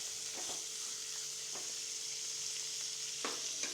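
Faint, steady frying hiss from onions and tomatoes sautéing in a pan for a Tamil drumstick tamarind curry, with a few soft stirring scrapes and no voices.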